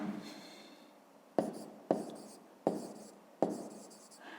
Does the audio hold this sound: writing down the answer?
yes